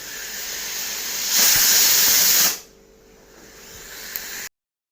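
A pressure cooker cooking lentils lets out one loud, hissing steam whistle lasting about a second. It then drops to a quieter, lingering hiss before the sound cuts off.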